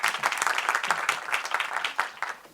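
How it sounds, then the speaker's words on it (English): Audience at the 2024 Korea-Israel International Education Forum applauding the keynote speakers, a steady patter of many hands clapping in a hall, moderately loud and continuous throughout. "Why don't we give a round of applause for our keynote speakers?"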